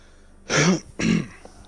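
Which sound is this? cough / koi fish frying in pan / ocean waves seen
cough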